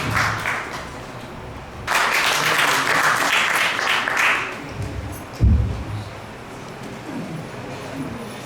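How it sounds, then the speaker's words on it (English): Audience applause at a lecture gathering bursts up and fills the room for a couple of seconds, then tapers off, with murmured talk and a few bumps around it. "Let's give a big round of applause to Sreshta Prabhu."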